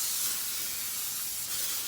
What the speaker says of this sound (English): So spray it with Pam.